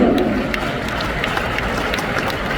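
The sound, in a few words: audience applause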